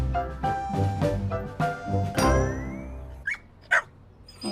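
A dog barks repeatedly in a Subaru Crosstrek car commercial: a run of loud, close barks, then a few sharp, isolated yips after a brief lull.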